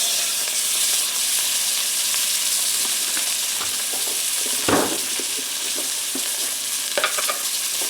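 A beef roast sears fat side down in browned butter in a cast-iron pan on a woodstove, a loud, continuous sizzle with scattered pops and crackles.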